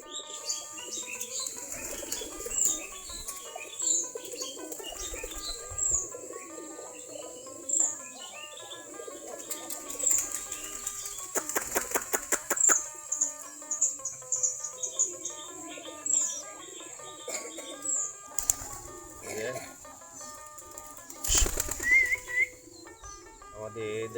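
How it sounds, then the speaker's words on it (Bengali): Flock of 40 to 45 pairs of domestic native pigeons, wings flapping in bursts with scattered chirps and soft calls amid a quiet insect hum, some background voices now and then. "আমাদের এখন প্রায় 40 থেকে 45 জোড়া কবুতর আছে, সবগুলো দেশি জাতের কবুতর।"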